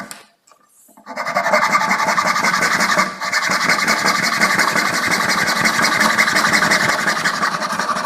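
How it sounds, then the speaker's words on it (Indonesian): A hand saw cuts through wood with fast, steady rasping strokes. After a brief quiet start it runs loud and close, with one short pause partway through. "kita potong menggunakan gergaji"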